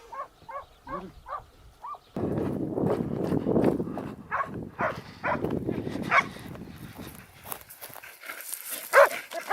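Hunting dogs bark during a wild boar hunt in rough country, a few quick yaps first and then a burst of loud, overlapping barking and baying from the pack, some near and some farther off.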